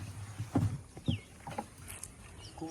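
Small rowboat moving on village river water, faint soft paddle splashes and water patter close by, with a few quiet knocks.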